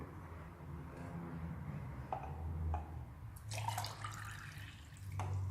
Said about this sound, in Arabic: وندير الماء